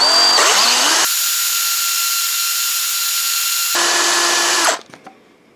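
A power drill whirs loudly during work on a Yamaha WR250E's gauge-cluster mount, with a brief spin-up, a long steady high-pitched run, and a pitch shift near the end before cutting out into a few faint knocks.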